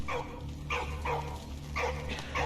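A dog in the World War I video game Valiant Hearts barks in a quick series of sharp yips, about five clear barks over a low steady game hum.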